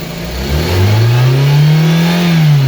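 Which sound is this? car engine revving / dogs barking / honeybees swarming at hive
car engine revving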